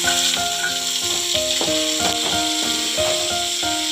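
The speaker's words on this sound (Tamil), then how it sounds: "முள்ளங்கி நல்லா எண்ணெயில் வதக்கணும்" Radish pieces sizzle steadily in hot oil in a pan while cooking a dried-fish curry, with a loud continuous hiss and repeated stirring clinks and scrapes throughout.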